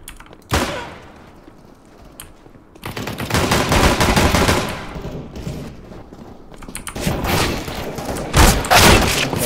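Dual Beretta pistols firing in CS:GO on the Dust II map during deathmatch, a sharp single shot, then long loud strings of rapid gunfire in two separate bursts with brief quiet between.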